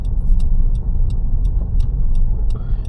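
Car driving along a suburban street in Wauchope, New South Wales, during a driving test route near a school zone: steady, close engine and road-tyre rumble throughout, with faint brief ticking on top.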